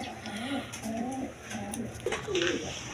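A pair of Rajgolla pigeons coo up close, several rolling, throaty coos in a repeating rhythm over about three seconds, with faint background sounds.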